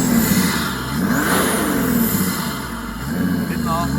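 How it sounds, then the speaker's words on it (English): A Mercedes OM606 diesel engine swapped into a Land Rover Defender with an upgraded intake revs up steadily and loudly nearby, rising and falling over a constant idle hum, with people talking over it. "Give it a little rev, let's hear it."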